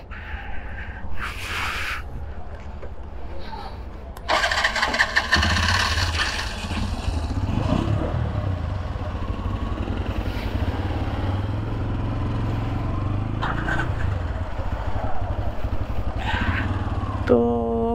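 A motorcycle engine runs steadily at a loud, close level with a rough low rumble, rising briefly as the bike is started and ridden off, with intermittent wind and road noise throughout.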